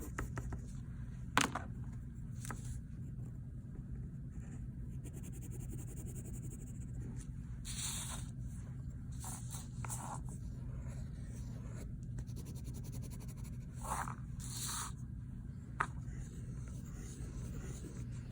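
Soft, brief scratching strokes of a colored pencil hatching on paper, coming in scattered bursts over a low steady hum.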